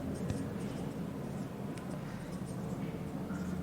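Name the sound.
writing on a board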